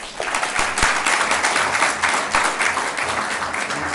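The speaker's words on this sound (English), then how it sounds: "How about a round of applause for them, please?" Steady applause from a civic audience at a Colma and Daly City State of the Cities event, honoring council members, continuous and fairly loud throughout with no talk over it.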